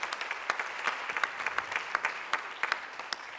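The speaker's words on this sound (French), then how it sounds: "on peut les applaudir aussi" Audience applause in a lecture hall at the opening of a research conference, a steady patter of many hands clapping at moderate distance, carrying on evenly with no voices over it.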